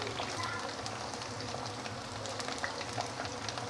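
Pork pieces deep fry in hot oil with a steady, dense sizzle and crackle that holds even and fairly close throughout, no voices over it.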